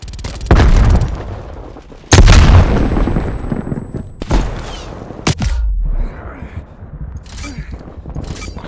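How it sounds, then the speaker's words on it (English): Gunfire and a grenade blast in the multiplayer video game Call of Duty: Black Ops Cold War: several loud sudden booms and shots, a big explosion near the middle trailing into a rumbling decay, with quieter clatter between. "Grenade out."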